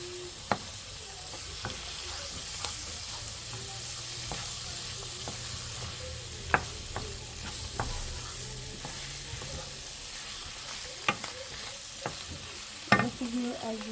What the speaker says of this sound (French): Et vous allez mélanger ça une fois de plus.